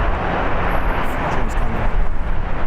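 Airliner engine roar at LAX airport, a steady broadband rumble holding at fairly constant loudness throughout, close and continuous with no talk.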